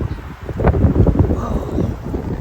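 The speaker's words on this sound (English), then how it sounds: "Here comes the wind." Strong wind gusts at Kipawa Lake, Quebec, buffet the microphone in a loud, continuous low roar that swells and eases over a few seconds, with no voices.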